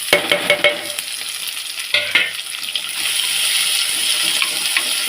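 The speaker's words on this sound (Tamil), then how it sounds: "வெங்காயம் இந்தளவுக்கு வதங்கணும்" Chopped onions sauté with green chilli and crushed ginger in a pan for a fish curry. A few clattering stirs come first, then a steady, loud hissing sizzle carries on with occasional scrapes.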